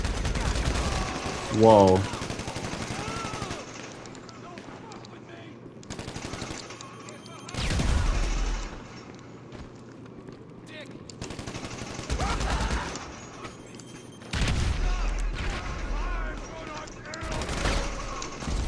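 Bursts of automatic gunfire and heavy shots from a firefight in GTA Online come in loud clusters separated by quieter gaps, with a voice breaking in briefly.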